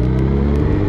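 Car drifting, a loud continuous engine roar with a steady low rumble and revving held throughout the short moment, close and dominant with no talk.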